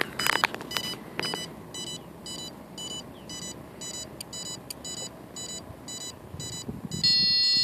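The ESC on a DJI F550 drone, suspected faulty on motor two, sounds a warning: about a dozen short, high electronic beeps in an even rhythm. Rattling handling noise comes at the start and a louder steady tone at the end.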